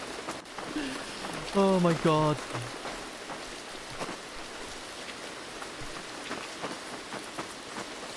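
Rain falling in the horror game Devour, a steady hiss of drops pattering throughout, with a person's startled exclamation and a brief tonal game sound breaking in early on.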